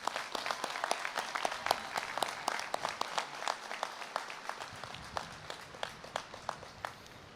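A high school graduation crowd gives a round of applause: scattered, fairly distant hand claps ring out in a loose rhythm and gradually thin to a few sharp individual claps.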